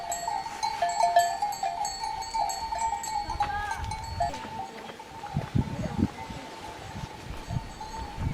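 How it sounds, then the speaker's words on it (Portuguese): Bells on grazing sheep clank softly in the Portuguese countryside, repeated light metallic clinks scattered through a quiet outdoor scene with some rustling, no talking. "esse barulhinho do chocalho das ovelhas"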